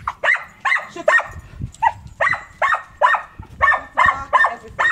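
A dog barking repeatedly on the way to a grooming appointment, about a dozen loud, close barks coming in a steady, insistent rhythm with short gaps between them and no talking.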